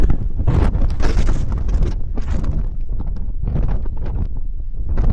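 Strong wind buffets the microphone in loud, irregular gusts, roaring and dropping repeatedly with no voices, on the exposed summit of Moel Arthur in the Clwydian Range, North Wales.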